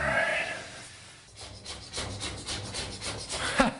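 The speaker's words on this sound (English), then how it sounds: "the dry scraping sometimes works really well" A tool scrapes dry old plaster off a wall in repeated short rasping strokes, close and moderately loud, with no talking.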